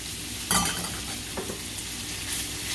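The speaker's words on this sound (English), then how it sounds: "So we're going to take our sausage. We're going to go ahead and throw that in the pan." Sausage for jambalaya drops into a hot pan and fries with a steady sizzle, broken by a couple of sharp clatters and stirring scrapes; no one speaks.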